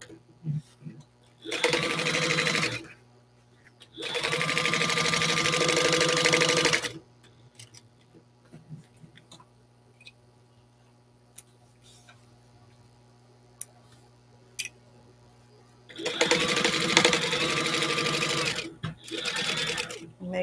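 Sewing machine stitching around the edges of a fabric pencil case with backstitching, running in several loud bursts of rapid, even clatter separated by quieter pauses with faint handling sounds.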